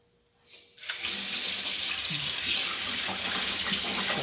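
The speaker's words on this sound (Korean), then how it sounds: "생강을 절반 정도 해서 흐르는 물에 씻어 갖고 얇게 썹니다." Ginger is washed under a running tap: the faucet opens after a brief quiet moment, then the water pours in a steady, loud, close rush with faint splashes.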